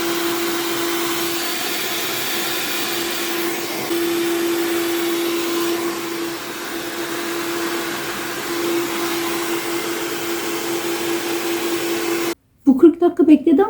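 Hair dryer blowing on hair, a loud steady close whoosh with a constant tone for about twelve seconds, shifting slightly in level, then cutting off abruptly before brief rustling.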